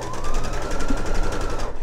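A sewing machine runs steadily for a couple of seconds, stitching a bulky eye pillow under the presser foot, a continuous close motor whir with rapid needle pulsing and no voices.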